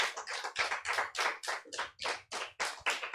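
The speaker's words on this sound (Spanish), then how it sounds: "Dele un aplauso al Señor." Congregation clapping in steady rhythmic unison during a church family service, about a dozen sharp even claps over a few seconds, moderately loud with no talk over it.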